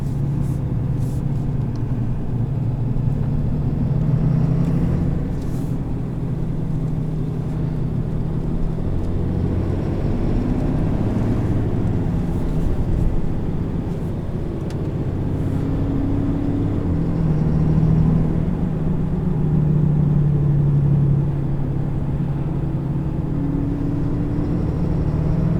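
Deep, steady diesel drone from a 2018 RAM 2500HD Laramie pickup with a Cummins diesel while its exhaust brake works, a low rumbling growl that swells and eases over about 25 seconds with no talking.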